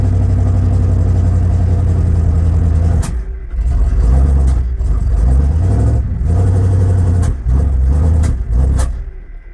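A 1979 Ford F250 truck with a 351M V8 and a power fault rumbles loudly on a road test, the engine droning steadily with repeated drops and surges as the throttle lifts and reopens.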